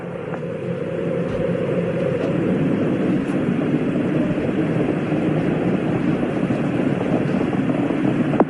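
Space Shuttle Challenger climbing after launch, its engines giving a steady, loud, broadband rumbling roar that holds constant throughout without voices.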